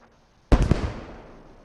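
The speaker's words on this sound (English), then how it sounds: "This is a heavy bombardment." Heavy artillery bombardment in a competitive real-time strategy game match, heard as one loud explosive blast that booms out and decays over about a second, with no other sounds around it.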